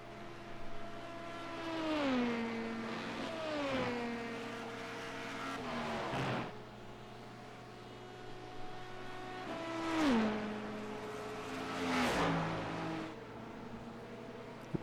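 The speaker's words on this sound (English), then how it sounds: "There is a hypercar starting to catch us now." Race cars in an IMSA sim game, with an LMP2 car and a Cadillac hypercar, pass twice with high engine whines that rise and then drop in pitch as each car goes by, over a steady engine drone.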